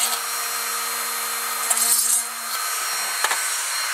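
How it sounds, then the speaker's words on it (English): A small drill bit bores holes into the styrene parts of a Bandai 1:44 scale Millennium Falcon model kit, giving a steady, close, quiet whirring scrape with a faint hum and a few light clicks, no talk. "I'm starting drilling the holes"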